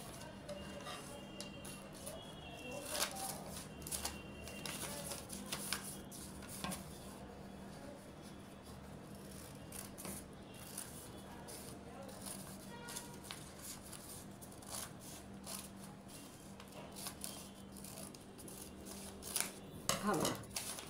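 Scissors cutting through folded fabric for a small skirt, a run of soft snips and rustles spread over the stretch, with a voice talking quietly between the cuts.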